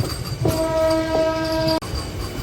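A MEMU local train entering Machilipatnam station sounds a steady horn blast of over a second over continuous rolling rail noise, followed by a brief sharp clank.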